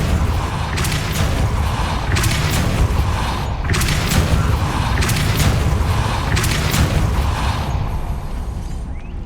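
The Depulso repelling spell goes off in the Hogwarts Legacy video game as a series of dull whooshing bursts over a constant rumbling game ambience, with no talk.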